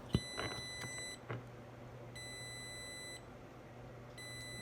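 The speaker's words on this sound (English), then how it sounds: "that's why it's beeping right now, because it's letting me know that the battery bank is low." Repeated electronic beeping from a battery bank's BMS low-voltage alarm, tones sounding in roughly one-second bursts that pause and resume, close and clear over a steady low hum, with a couple of soft handling knocks.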